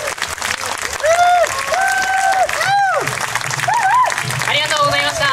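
Audience applause at an outdoor jazz festival stage, the Jōzenji Street Jazz Festival at an open-air park bandshell: steady clapping from a crowd fills the whole stretch while someone speaks over a PA on top of it.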